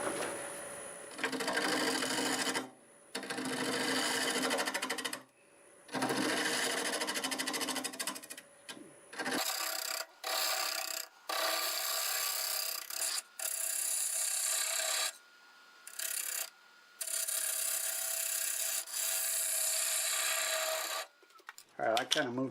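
Black walnut spins on a wood lathe while a tool cleans up the surface, making raspy scraping bursts broken by short pauses, close and steady, with the tool repeatedly lifted and reapplied.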